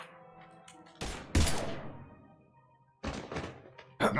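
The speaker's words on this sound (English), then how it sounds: "Now open fire!" Mass Effect 3 game gunfire crashes in several loud, sharp bursts, each decaying quickly, with short pauses between volleys.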